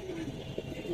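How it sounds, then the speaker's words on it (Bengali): A pigeon coos softly, sounding close, with brief low warbling calls over a quiet, slightly noisy background. "অসাধারণ এক কবুতর"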